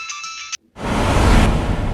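A mobile phone ringtone chimes briefly with a bright, repeating tone for about half a second, then cuts off and is replaced by loud, rushing broadband noise.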